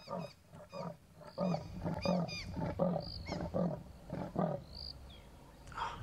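A male lion roars territorially in a long series of deep, rhythmic grunting bellows, loud and close, with a few high bird chirps in the background.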